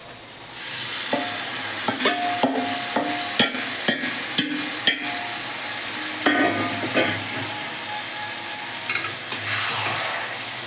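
Mutton pieces tossed in a kadai with red chilli powder and sugar sizzle steadily while a spoon scrapes and stirs in repeated sharp knocks, close and without talk.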